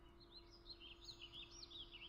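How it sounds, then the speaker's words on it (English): Birds chirping in the video game Mabinogi: quick, high, repeated tweets, very faint and distant, over a quiet steady hum. "You can't even hear the birds chirping."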